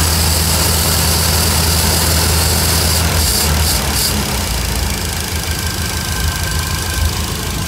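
A 1966 Cadillac V8 fitted with a Holley Sniper fuel injection system idles steadily, a loud, constant low engine drone heard up close with no voices.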